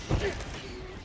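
A quick magazine reload in Helldivers 2, a short mechanical clack and creak of metal parts heard close for about a second with no talking.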